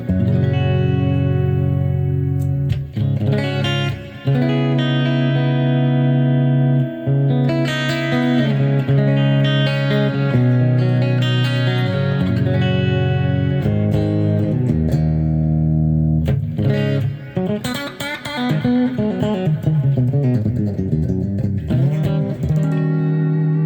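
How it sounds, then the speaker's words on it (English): A clean Ibanez AZ24S1F electric guitar plays sustained chords and picked notes, softly trailed by a gentle delay and a warm reverb tail, with no voices. "a little bit more on the clean side, with just a hint of a better delay, a mild, very mild delay"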